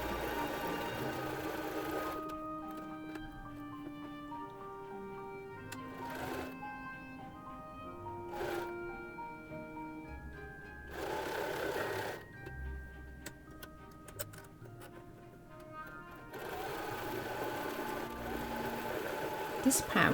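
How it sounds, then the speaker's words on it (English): A sewing machine runs a zigzag stitch on a child's fabric mask in several close, whirring runs with pauses between, over steady background music. "and then I'm gonna use a zigzag stitch"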